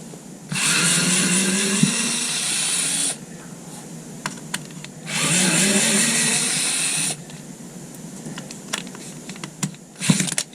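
Skil Twist 2.0 electric screwdriver set to highest torque backing out screws, two loud whirring bursts of a few seconds each separated by quieter handling clicks and taps, close up.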